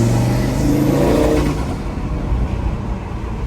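A 2018 Audi RS3's five-cylinder turbo engine and exhaust drone steadily while driving, loud and close, the revs easing off after the first second and a half with no talk.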